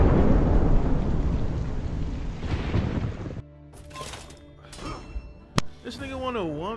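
Rain and rolling thunder from the video game For Honor, a steady broadband wash that cuts off partway, followed by scattered game sounds and a sharp crack.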